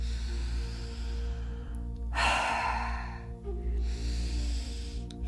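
Deep warrior-style breathing exercise, a long forceful breath rushing out in a breathy exhale, then another softer breath after a pause, close and alone over a low steady background hum.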